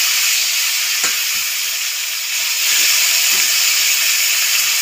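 Chopped tomato sizzling and frying in hot oil with tempered spices, a steady loud hiss with a few soft stirring knocks, rising slightly partway through.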